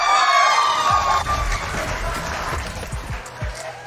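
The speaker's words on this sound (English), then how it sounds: "Always a good time to hear from the crowd there" Esports arena crowd at a Mobile Legends MPL Philippines Season 10 match, a dense roar of cheering and shouting from a large audience, loudest at the start then easing slightly, with scattered whoops and claps throughout.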